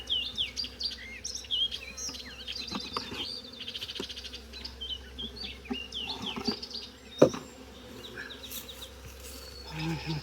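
Honey bees buzz around hive frames being worked during a colony split, a soft close hum under scattered clicks and frame knocks, with birds chirping in the background.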